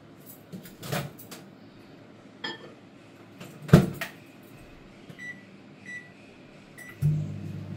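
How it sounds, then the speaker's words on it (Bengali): A microwave oven heats water for coffee, its door clunking and a clink of a cup near the start, a steady hum running underneath, a few short beeps later on, and a final door thud at the end, with no talk. "মাইক্রোওভেনে তাড়াতাড়ি করে জলটা গরম করে নিই"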